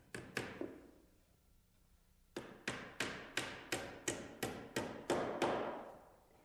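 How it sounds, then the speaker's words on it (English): Sharp hammer blows driving a small nail to tack a wooden stair tread to its carriage: two quick taps, a pause, then about ten steady, evenly spaced strikes, close and fairly loud. "tack it in place with a small nail"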